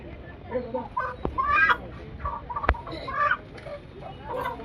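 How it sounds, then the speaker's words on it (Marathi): Several country chickens cluck in short bursts close by at a weekly village market in Kudal, with a couple of sharp clicks and faint voices in the background. "सगळी गावठी कोंबडी आहे."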